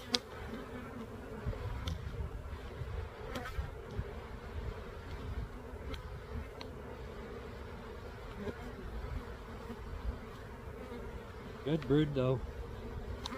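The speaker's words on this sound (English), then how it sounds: "they're not a real calm type of hive. So they're a little bit runny and they're flying." Honey bees hum and buzz close by as they fly around a freshly opened hive, a constant drone with a brief voice speaking near the end.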